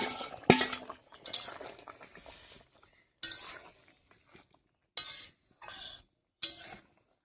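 Fried singi fish going into a simmering curry with potatoes, cauliflower and onion greens, heard as metal utensils clinking and scraping against a pot in short irregular bursts separated by quiet gaps.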